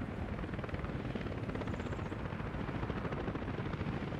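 A helicopter in the city-building game Workers & Resources flies with continuous rapid rotor chopping under a dense, steady engine roar, heard alone without speech.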